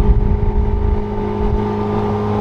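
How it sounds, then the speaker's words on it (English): A Ferrari F430 Spyder's naturally aspirated V8 with a catless exhaust idles steadily close by, a loud, even engine drone with a low rumble that holds throughout. "F430 Spyder, naturally aspirated V8, doesn't get any better than this, bro."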